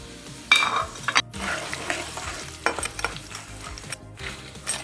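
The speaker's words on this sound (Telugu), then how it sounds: "పోపు సగం వేగింది, ఇప్పుడు ఎండుమిరపకాయలు వేసేసుకుందాం" Dry red chillies fry in a hot tempering with asafoetida, giving a bright crackling sizzle with clinks and scrapes of a spoon against the pan in uneven bursts.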